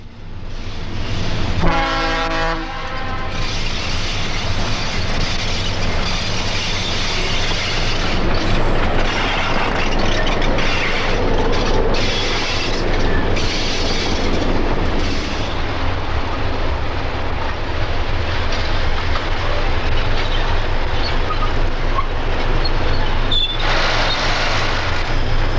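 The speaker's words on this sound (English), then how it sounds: "Number 801 comes past the waiting train." A South Shore interurban electric train, number 801, rolls past a waiting train, with a loud steady rumble of wheels and traction running throughout and a brief horn-like burst near the start.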